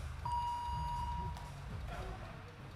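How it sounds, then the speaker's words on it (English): A steady electronic round-timer buzzer beeps once for about a second during Brazilian jiu-jitsu training, with a fainter second tone after, over low rumbling background noise and movement. "Beep beep. Okay, buzzer goes."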